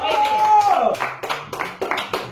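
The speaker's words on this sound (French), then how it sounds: "Applaudissez-moi." A few scattered claps answer a French game host announcing the group results. A voice speaks briefly before the sharp, irregular hand claps begin.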